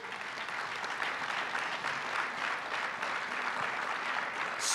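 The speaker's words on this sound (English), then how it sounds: "And you can give them a round of applause." Audience applause for honorees at an awards ceremony, a steady dense clapping that fills the room throughout without pause or talk.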